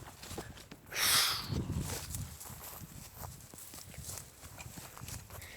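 A horse's hooves clip-clop softly on the ground while it is led through a pasture, with a brief louder rustle near the start and quiet talk in the background.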